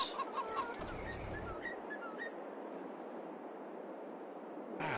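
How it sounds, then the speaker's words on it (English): Chickens in the farming video game Farming Simulator 22 give a few short clucks and chirps at the start, then fade into a soft, steady outdoor ambience with no talking. "Now the chickens are in, they're doing good."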